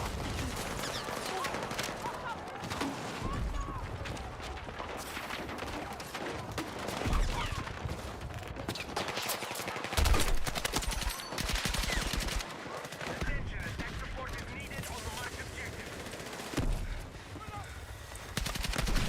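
Battlefield 6 gunfire, repeated automatic bursts and single shots clattering loudly across a long stretch of combat, with someone talking over the shooting at times.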